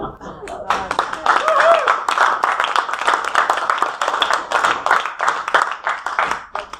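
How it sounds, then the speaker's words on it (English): A debate audience applauds after a speech, with dense, steady clapping that runs the whole stretch at fairly close range and stays loud throughout. "We should have applause"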